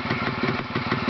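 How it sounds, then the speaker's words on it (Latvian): A motorcycle engine, offered for sale and just started, idles with a steady, even, slightly clattery chug close to the microphone, continuous and alone. "Šis motors iet uz pārdošanu, tikko iedarbināja"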